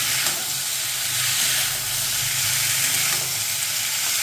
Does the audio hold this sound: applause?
no